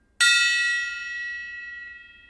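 A single metallic gong-like stroke lands sharply after a brief silence, then rings on with a bright, slowly fading shimmer that lasts over two seconds.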